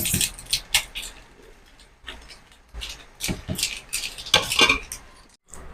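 A spoon scrapes and clinks against a pot while Maggi noodles are stirred, a series of irregular metallic knocks and scrapes, close and fairly loud.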